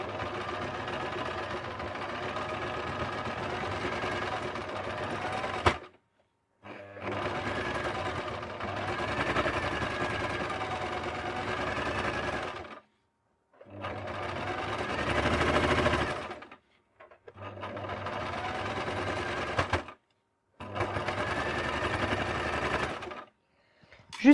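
A sewing machine stitches around a fabric Christmas stocking, a close, rapid mechanical chatter running in several long bursts separated by brief pauses, with no talking.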